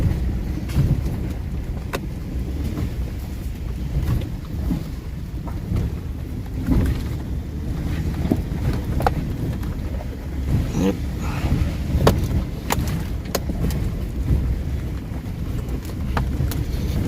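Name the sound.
Ford engine whine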